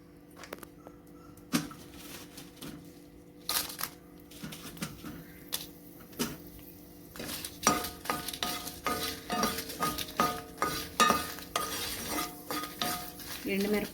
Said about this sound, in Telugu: ఇప్పుడు ఇదే పాన్లోకి 1 టీ స్పూన్ ఆయిల్ వేసుకొని ఎండుమిరపకాయలు వేయించుకుందాం.